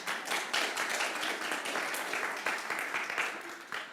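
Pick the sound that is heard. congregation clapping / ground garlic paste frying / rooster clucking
congregation clapping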